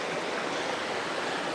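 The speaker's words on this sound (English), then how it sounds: "running through beside it, lots of babbling water" Water babbling over rocks in a river through a woodland gorge at Padley Gorge, a steady close rush of broadband splashing and hiss with no voices.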